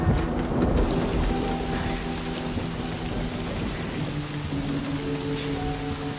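Heavy rain pours down continuously in a thunderstorm, close and steady, with a low rumble of thunder underneath. No one speaks.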